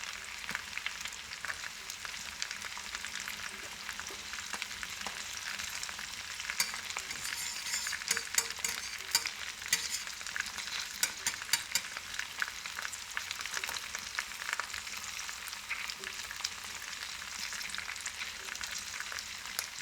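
Garlic sizzles in a pan on a wood-fired kitchen stove, a soft continuous frying crackle with occasional stirring scrapes, fairly quiet throughout.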